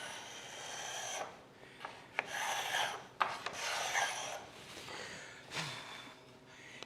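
A hand scraper shaves thin wood off a table saw crosscut sled in several short, close rasping strokes separated by pauses, quiet and without talk.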